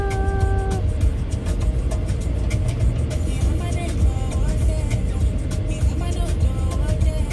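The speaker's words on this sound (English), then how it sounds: "Everyone's just trying to get out of the traffic." Road traffic in the Al Quoz district of Dubai rumbles steadily and loudly, with car and truck engines blending into a constant roar, clicks and knocks scattered throughout and a brief tone near the start.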